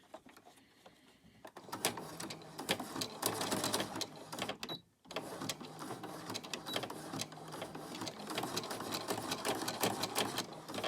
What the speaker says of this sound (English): I'm on the zigzag stitch like I showed you, and I'm just going to do a couple of stitches forwards and then backwards.